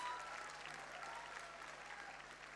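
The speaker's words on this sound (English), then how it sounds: "Require a round of applause from the audience." An audience at a college tech fiesta prize ceremony gives a round of applause, a continuous patter of many hands that sounds faint and distant, with a steady low hum underneath.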